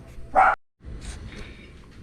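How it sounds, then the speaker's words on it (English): A dog gives a single sharp bark, close and loud, during repair work on a GE washing machine suspension rod, followed by a quieter low background rumble. "That's my dog."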